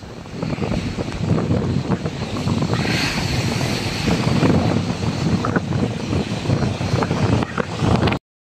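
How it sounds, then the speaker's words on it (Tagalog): Rough surf churns in Manila Bay after Typhoon Uwan, a constant broad roar of crashing waves and gusty wind close to the shore, cutting off abruptly at the end. "Yan o, grabe ang alon, no?"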